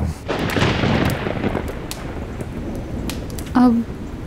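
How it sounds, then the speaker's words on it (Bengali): Steady storm rain pours in a dense hiss throughout, with a brief tonal sound near the end, loud and close with no talk over it. "এখনো যা বৃষ্টি হচ্ছে, এখন গেলে ভিজে যাব"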